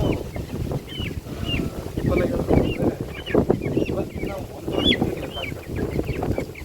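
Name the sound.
chickens on a poultry farm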